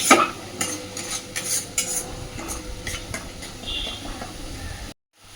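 Spice paste being stirred and fried in a pan for a Bengali pangas fish oil-chili curry, with steady scraping and clinking of a utensil over a soft sizzle, close and moderately loud, ending abruptly in silence.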